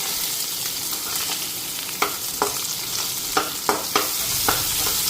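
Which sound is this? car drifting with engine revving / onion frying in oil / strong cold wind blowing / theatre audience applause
onion frying in oil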